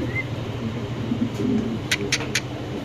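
A pair of fancy pigeons at a pigeon farm in Bangladesh cooing softly and low, with a few brief sharp chirps from other birds near the end.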